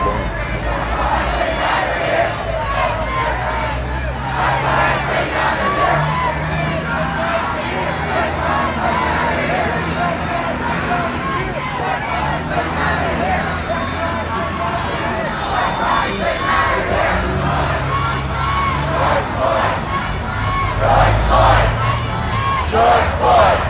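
A large protest crowd in the streets of Hollywood at night shouts and chants continuously, a dense, loud roar of many voices with rising bursts of yelling, while police deal with the gathering after curfew.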